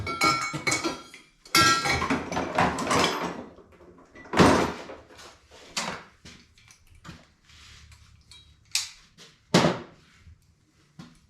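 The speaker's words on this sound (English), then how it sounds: "Here's a plumbing hose. It's metal. I'm going to just throw that in the steel pile." A metal plumbing hose is tossed onto a scrap steel pile, giving a loud clattering crash of metal on metal followed by a few scattered clinks and rattles, close by with no talk.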